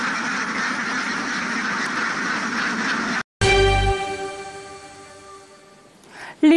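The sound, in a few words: ducks quacking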